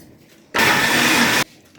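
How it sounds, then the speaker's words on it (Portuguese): A kitchen blender runs in one steady, loud burst of just under a second, whirring through a carrot and milk mixture before stopping abruptly, with quiet room tone on either side. "Aí a gente vai bater no liquidificador."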